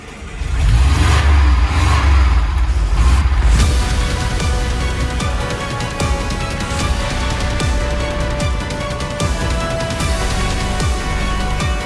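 A LuAZ off-road car revs hard and then drives on with a steady, loud mid-pitched engine drone as it heads down into a sewer tunnel, close and continuous, no talk.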